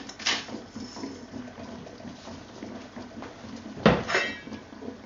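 Lamb caldereta with pineapple and chili sauce is stirred in a cooking pot, giving soft liquid swishes, light scrapes and a couple of sharper metallic clinks of a utensil against the pot.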